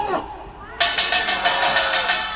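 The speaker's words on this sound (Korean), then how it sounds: "잠시 함성을 질러주시기 바랍니다" A crowd at a 2017 Taegukgi rally at Busan Station Plaza answers a leader with loud, rhythmic chanting, shouting in evenly spaced bursts about three times a second.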